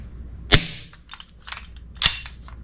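An ASG CZ Shadow 2 airsoft pistol fires BBs, giving two sharp, snappy cracks about a second and a half apart. Faint mechanical clicks sound between the shots, and nobody speaks.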